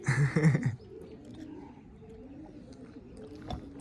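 A pigeon coos softly in a low, throaty burst at the start, then quiet background ambience with faint distant bird sounds.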